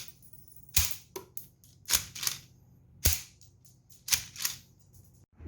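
A homemade Lego gun fires five rounds, each a sharp snapping click with a short rattling follow-through, spaced about a second apart in a quiet room.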